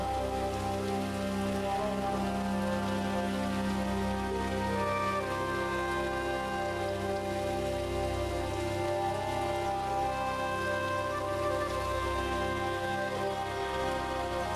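Rain in the video game Stone Simulator pours in a constant, unbroken wash of fine patter, even in loudness from start to end, layered over faint held musical notes.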